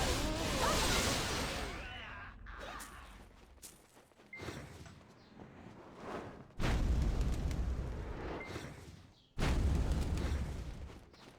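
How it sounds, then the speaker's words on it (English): Explosions in the video game Black Desert Online, several loud booming blasts with rushing whooshes, separated by quieter stretches. "Explosion."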